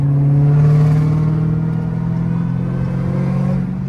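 A supercharged Dodge Challenger Hellcat Redeye with catless mid pipes pulls steadily under acceleration, a strong low drone topped by a thin, rising supercharger whine, heard from inside the cabin with windows cracked.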